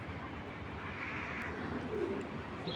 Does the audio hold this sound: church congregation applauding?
no